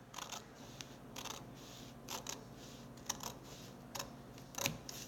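Scissors snip through paper in a quiet classroom-style setting, a series of short, crisp cuts spaced irregularly across several seconds, close and fairly soft with no voices.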